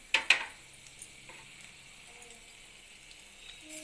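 Bitter gourd pieces fry lightly in oil, a quiet steady sizzle with a couple of sharp spatters and clinks near the start, then a faint hiss continuing alone.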